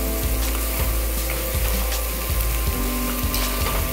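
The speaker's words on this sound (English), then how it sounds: "now stir fry for about 5 minutes or until it's became fragrant" Butter sizzles steadily in a pan during stir-frying for spicy grilled meatballs and chicken sausages, with regular scraping strokes of a spatula roughly every half second, loud and close throughout.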